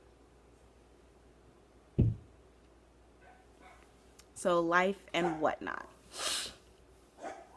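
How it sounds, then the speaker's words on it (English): Household dogs bark and yelp in the background at home, with a sharp thump, then a burst of whining, pitched barks and snorts, while someone talks over them. "I apologize for the dogs barking."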